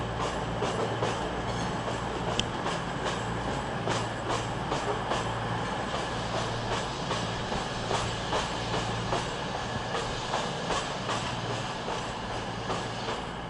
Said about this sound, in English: Cross-country service. Looks like just a plain old Voyager.